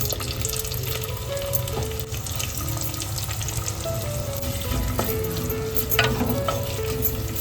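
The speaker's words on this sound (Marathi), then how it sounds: "व्यवस्थित ना कांदा परतवून घ्यायचा आपल्याला" Onion and curry leaves sauté in hot oil for a tempering, giving a continuous close sizzling hiss with occasional scraping stirs and a background hum with clinks, and no one talks.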